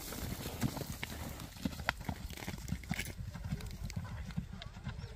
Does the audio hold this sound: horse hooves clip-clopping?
yes